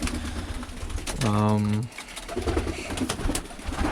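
A Birmingham Roller pigeon gives a single loud, drawn-out coo close by, surrounded by rustling, with someone talking before and after it.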